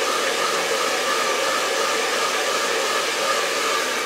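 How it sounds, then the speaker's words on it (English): Blow dryer running continuously on tissue latex special-effects makeup, a loud, even rushing hiss that holds steady throughout with no voices. "You put the blow dryer in it just to be sure that it's all dry."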